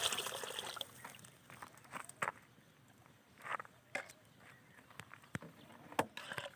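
Two containers of water pour and splash into a pot of rice in uneven bursts, close by, with a few louder splashes along the way and no talking.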